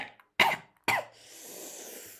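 Two sharp, close coughs in quick succession from one person, followed by a soft breathy exhale.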